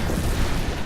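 A thick, booming explosion in Diablo 3 fills the moment, loud and sustained with a rumbling low roar that barely lets up.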